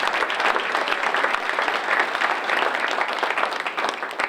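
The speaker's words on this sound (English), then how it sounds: "Clap for them." Audience at an academic recognition program applauds the senior category award nominees, a steady dense wash of clapping hands filling the room throughout, with no talking.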